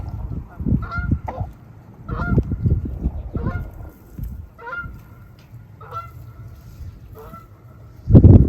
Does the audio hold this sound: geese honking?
yes